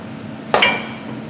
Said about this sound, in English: Are we going to have to break out the dead blow hammer again?